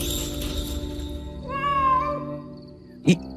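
A cat meows once in a clear, drawn-out call with falling pitch, close and fairly loud, followed by a short sharp knock, against a steady background hum.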